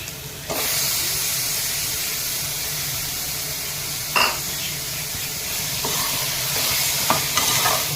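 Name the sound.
chicken sautéing with tomato and ginger garlic paste, stirred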